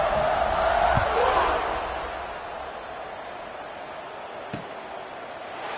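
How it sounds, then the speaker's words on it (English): Stadium crowd at a Penn State football game in the fourth quarter, a broad steady buzz of many voices, loudest at first and then settling into a continuous murmur, with a single sharp knock partway through. "this crowd is buzzing after that last score"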